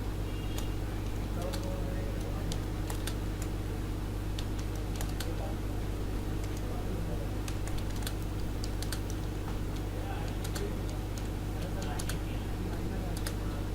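Rapid typing on a computer keyboard while writing text in the InPage Urdu/Hindi word processor: a steady stream of sharp key clicks over a constant low hum.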